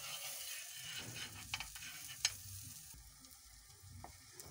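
Swahili pizza frying in butter in a pan on the stove, a soft steady sizzle with a few light clinks and scrapes of a utensil turning it, nearby and quiet.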